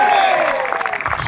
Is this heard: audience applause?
yes